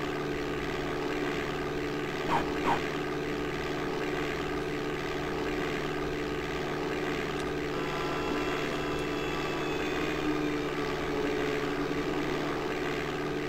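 Simulated propeller airplane taking off from a grass runway in DOS Flight Simulator 5.1, a steady droning engine hum that holds constant and loud throughout, with no voices.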